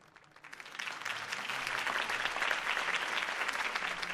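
Applause from a crowd for Harvey Dent's campaign speech in the Batman Telltale game, starting quiet then swelling into steady, dense clapping that carries on loud and even to the end, with no talking.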